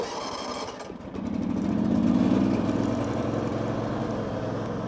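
A John Deere X300 riding lawn tractor engine runs warm without choke, its steady hum swelling as the throttle opens after about a second and then holding at a loud, even drone.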